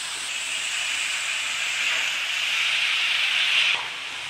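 Broad beans fry in a pan with a steady, bright hiss that stays close and continuous, swelling slightly before dropping off near the end.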